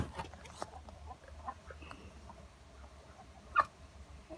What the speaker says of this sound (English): chickens have had to go in the field, which is quite hard to round them back up into the pen